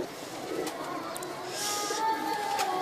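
Pigeons, a male and female kept together as a pair, give soft, low cooing that stays faint and muffled for a few seconds against background noise, with a thin whistle-like tone near the end.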